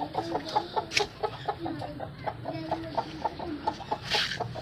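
A hen clucks near her eggs in a farmyard with a rapid run of short, close clucks and a brief louder squawk toward the end. The calls are moderately loud and come alone, with no talk.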